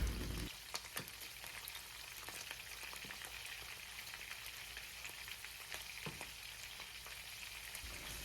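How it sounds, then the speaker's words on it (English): Dried salted fish (bitoyo) frying in a pan gives a soft, steady sizzle dotted with small crackles and pops, heard alone without talk. "hearing the way they sizzle on a pan"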